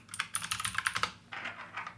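Quick, light keystrokes clatter on a computer keyboard in an irregular burst, typing a word in all caps, recorded fairly quietly and close up, with a brief pause partway through.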